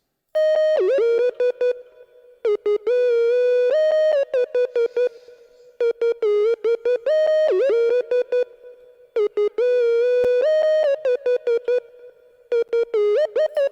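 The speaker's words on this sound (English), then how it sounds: "This lead that I added from OMNISPHERE sounds like this." A synth lead patch from Omnisphere plays in an FL Studio hyperpop-style beat, a bright, tonal melody of short repeated phrases with gliding notes and brief gaps, loud and alone without talk.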